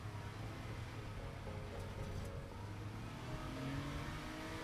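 A big white car drives off down a road as a children's story sound effect, its engine holding a steady mid-pitched drone that rises slightly as it accelerates away, moderately loud with no voices.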